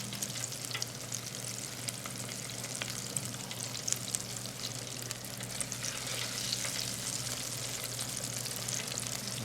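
Chicken pieces in a self-rising flour double-dipped coating deep frying in oil, a dense continuous sizzle and crackle with a faint low hum, close and steady throughout.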